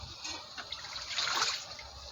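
Water poured into a cooking pot over vegetables such as bottle gourd, a steady close trickling and splashing gush lasting about two seconds and growing slightly fuller toward the end.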